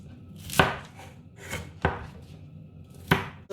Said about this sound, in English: I'm going to trim this off so it looks nice